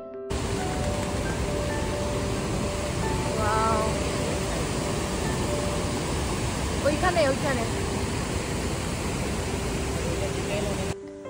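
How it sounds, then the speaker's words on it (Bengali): The Rhine Falls waterfall in Switzerland roars as a dense, constant wash of rushing water, loud and unbroken for the whole stretch, with faint voices barely surfacing through it. "জলের আওয়াজ শুনলে আপনি অবাক হয়ে যাবেন"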